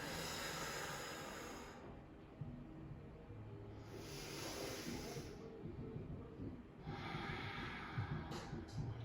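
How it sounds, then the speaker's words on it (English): Slow deep breathing during a seated yoga stretch, three long hissing breaths spaced a few seconds apart, close and steady over a low background rumble. "3 deep breaths."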